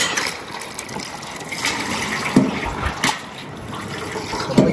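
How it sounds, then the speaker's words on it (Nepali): Cold water runs and gushes in a wooded village spot, a continuous close splashing flow with a few louder surges scattered throughout. "चिसो पानी आउँछ"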